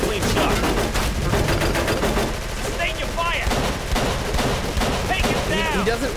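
Sustained machine gun fire from an emplaced gunner in Call of Cthulhu: Dark Corners of the Earth, loud rapid bursts filling the scene while shouted voices break through over the shooting.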